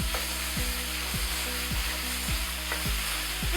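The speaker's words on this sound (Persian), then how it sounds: "گوشتم رو بهش اضافه میکنم و شروع میکنم به تفت دادن گوشتم." Ground meat for a lasagna meat sauce fries steadily in oil in a pan, a continuous close sizzle broken by repeated scraping strokes of a spatula stirring it, with no talking.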